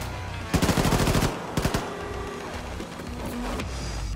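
Automatic gunfire in the Wolfenstein 2 shooter, a rapid burst of shots followed by a shorter second burst and scattered mechanical clatter, loud and close over a busy game background.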